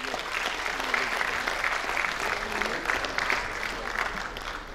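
Steady audience applause at a Hindi comedy poetry gathering, a sustained wash of clapping from a large hall crowd with a voice faintly underneath.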